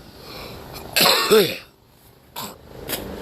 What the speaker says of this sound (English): that was me coughing out the poison